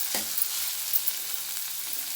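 Bottle gourd and tomato curry frying in a pan, with a soft constant sizzle and a few scraping stirs of a spoon near the start and middle, close and without talk.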